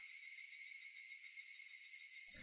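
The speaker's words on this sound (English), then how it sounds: "Only the cry of the cicadas remained, annoyingly loud" A loud, steady, droning chorus of cicadas, a continuous high buzzing with a faint pulsing rhythm, and a brief low rustle at the end.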